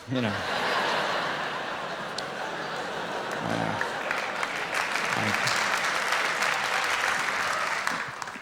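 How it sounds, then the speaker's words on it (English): Comedy club audience applauding during a 1988 stand-up set, steady sustained clapping with scattered chuckles and laughter throughout, a voice briefly heard near the start and middle. "Thank you for the jaded applause."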